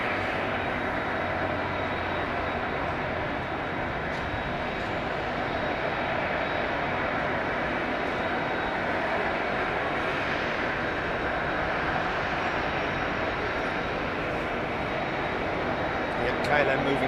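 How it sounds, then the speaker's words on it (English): A KLM airliner rolls into takeoff position on a Heathrow runway with a low, steady engine hum in the distance. A voice talks over it. "KLM moving into position."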